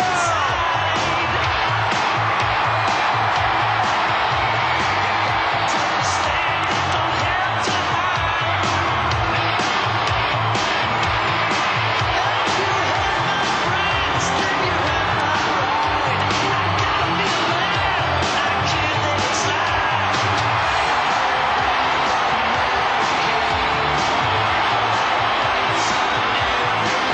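Loud, dense wrestling arena crowd roaring and cheering for Hulk Hogan, a steady wall of noise with scattered whoops, sustained without a break throughout.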